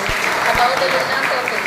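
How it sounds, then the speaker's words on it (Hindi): A crowd applauds steadily, a dense wash of clapping that carries on throughout while a voice speaks over it. "यहाँ आप तालियों की गड़गड़ाहट को सुन सकते हैं"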